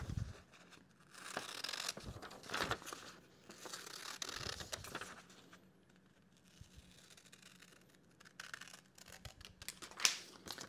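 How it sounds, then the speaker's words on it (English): Scissors cutting out a paper butterfly pattern for a scroll saw compound cut, close and quiet, with soft snipping and rustling strokes in uneven bursts and a crisp snip near the end. "right now, I'm just going to cut this design out"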